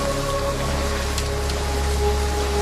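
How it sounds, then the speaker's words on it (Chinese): Steady rain pours down over flooded, waterlogged ground, a dense even hiss of drops striking standing water, continuous and close with no voices. "天这样下雨，地面积水"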